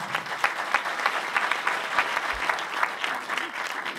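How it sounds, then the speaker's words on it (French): An audience at a lecture claps steadily for several seconds, a dense, even patter of hands filling the room with no voices over it. "je crois que c'est important de les applaudir"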